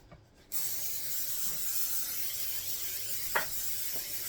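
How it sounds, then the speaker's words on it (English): A steady, close hiss of cooking spray on a 9x13 baking pan, starting abruptly and continuing for several seconds with a small clink partway through. "we are going to spray our 9x13 pan real good"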